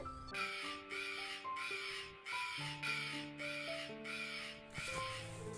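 A voice imitates a crow in a children's school play, giving a string of about seven evenly spaced caws over a steady tonal background.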